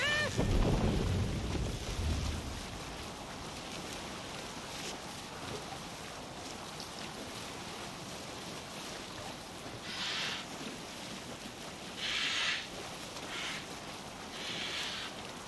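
A Viking longship sailing in Assassin's Creed Valhalla: a steady wash of water and wind rushing past the hull, with a louder splash at the start and a few brief gusts or sprays later.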